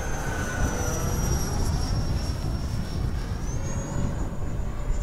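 An FMS Reflex V3-equipped RC plane flies in gusty wind, a steady, continuous propeller and electric motor whine with a high tone that rises slightly in pitch near the end, over constant wind rumble.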